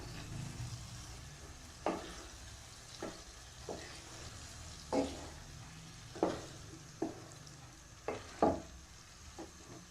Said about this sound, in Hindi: अब मसाले में हम ओजरी को मिक्स करेंगे।